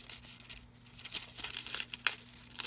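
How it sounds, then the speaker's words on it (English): Foil cut from a sheet for crafting with die-cut plates, giving soft crinkling and crisp snipping ticks in irregular bursts, close and faint, with no talk. "you cut a piece of foil"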